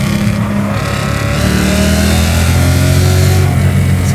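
A loud, close supercharged V8 swapped into a BMW E30 revs with a raspy snarl and supercharger whine, the pitch climbing and falling across the rev, with no talking over it.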